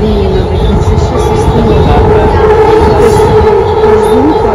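Inside a Delhi Metro train carriage on the run from the airport, a loud, steady rumble of wheels and motors with a faint whine drifting in pitch, continuous throughout.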